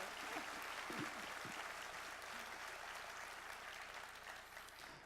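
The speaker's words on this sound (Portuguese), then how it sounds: "Mais uma salva de palmas para Daniel Pimentel Slaviero." At the opening of a Brazilian broadcasting congress, a large hall audience applauds: a dense, continuous wash of clapping, faint and somewhat distant, holding steady for several seconds.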